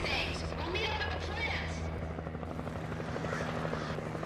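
A Coast Guard helicopter in the video game Alan Wake sends out a loud, continuous rotor thrum with rhythmic chopping, while people talk over it.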